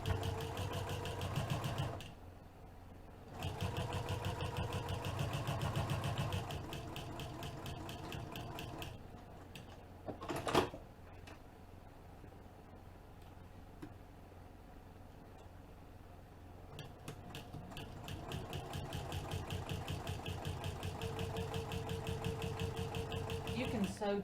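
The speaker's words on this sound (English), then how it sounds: "So I'm going to sew around it to baste." A sewing machine runs basting stitches on a business bag in several bursts of rapid, rhythmic needle chatter, with a sharp clunk midway and quieter pauses between runs.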